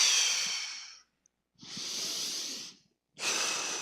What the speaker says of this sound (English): You're going to take a deep breath as you go up with that weight, okay?